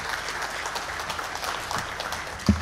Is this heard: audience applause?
yes